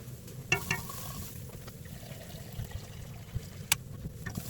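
Garlic and ginger fry in a pan for Asian-style short ribs, giving a soft, steady sizzle with a few sharp clicks of stirring, heard close but at low level.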